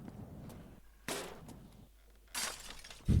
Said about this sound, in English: thing hits the window and gives like a smashing sound effect, but it doesn't actually break it